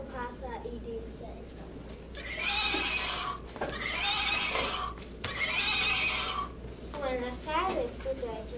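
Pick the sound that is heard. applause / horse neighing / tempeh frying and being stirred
horse neighing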